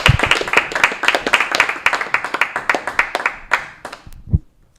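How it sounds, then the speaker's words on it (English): A comedy club audience claps and cheers for a stand-up comedian, a loud, steady burst of many hands near and far that holds for about four seconds, then thins out and ends with a final low thump. "Big round of applause for a very funny man, Nick Puente, ladies and gentlemen."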